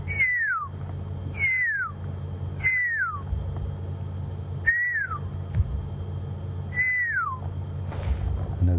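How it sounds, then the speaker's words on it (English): A pearl-spotted owl's clear, descending whistled note repeats five times at an uneven pace, fairly close, over a low steady hum with no talking, on a safari sunset drive. "that's the pearl-spotted owl going"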